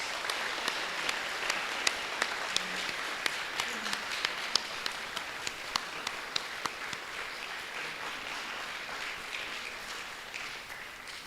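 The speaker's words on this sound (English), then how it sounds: "Let's give him a round of applause." An audience at a golden jubilee talk gives a round of applause, heard as steady, moderately distant clapping from many hands that carries on for about eleven seconds before easing off slightly.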